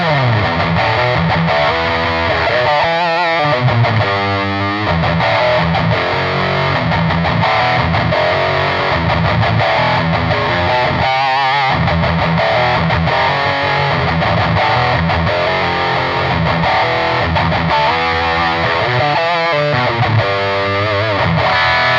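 Heavily distorted electric guitar through a cranked REVV Northern Mauler high-gain pedal, chugging, buzzing metal riffs played loud and continuous with short palm-muted breaks.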